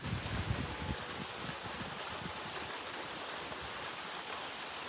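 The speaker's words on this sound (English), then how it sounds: "But now that the rain started, the wind will calm down." Steady rain pours down during a powerful June thunderstorm with damaging winds, a dense even hiss of drops on surfaces that continues without a break, and no voices.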